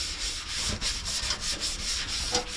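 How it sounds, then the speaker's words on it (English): Abrasive scuffing over bare metal on a Ford 960 tractor before priming, a continuous, close, gritty rubbing with a steady back-and-forth rhythm. "now I'm just going to scuff up the rest of it, clean it off"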